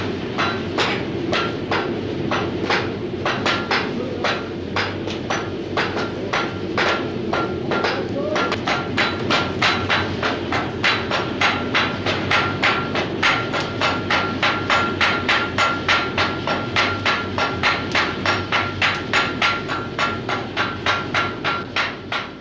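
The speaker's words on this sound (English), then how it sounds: "using anything up to 15 pounds lump hammers, known as jimmy hammers, the anchor chain team would then proceed to hit and strike the link" Heavy lump hammers of up to fifteen pounds striking hot anchor chain links for the Titanic, a long run of loud, sharp metallic blows in a fast, steady rhythm, with a voice speaking over them.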